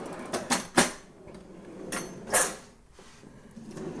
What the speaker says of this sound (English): this is the utensil drawer with the slide back